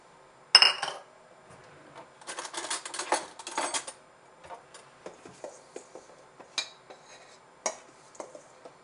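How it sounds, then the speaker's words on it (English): A utensil clinks and scrapes against a bowl while dry ingredients for chickpea flour pancakes with dried mushrooms and dill are stirred. Brisk rattling bursts alternate with lighter irregular taps, close and fairly quiet, with no talk. "Mix up your dry ingredients."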